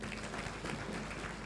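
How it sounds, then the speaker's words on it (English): A crowd at a renewable energy conference applauds, with dense, steady clapping that sounds somewhat distant and fills the whole short moment. "For the innovators, let's clap for them again."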